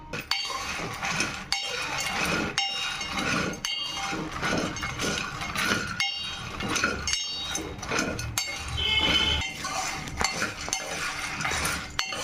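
Phool makhana (fox nuts) dry-roast in a kadai on a stove, with a steady rattle broken by sharp metallic clinks and scrapes of stirring every second or so, close and fairly loud.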